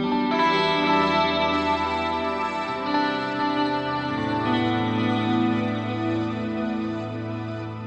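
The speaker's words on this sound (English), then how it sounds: "Let's just hear it with a bit of the old Strymon delay on." Clean channel of a Friedman BE100-inspired guitar amp played through a Strymon delay, with ringing chords and notes whose repeats trail and overlap into a lush, continuous wash, with no talk.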